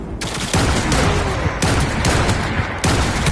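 Dense gunfire from the Cyberpunk 2077 video game roars in loud, continuous automatic bursts with brief breaks in between, and no one speaks.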